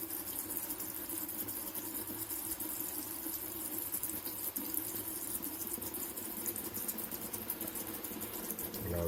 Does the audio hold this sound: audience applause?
no